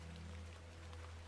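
Steady rain falls in the point-and-click horror game The Excavation of Hob's Barrow, an even, soft hiss of rainfall outside Ticehurst House on an evening, continuous and unbroken with a low background hum beneath it.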